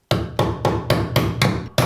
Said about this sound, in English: The old side hammer.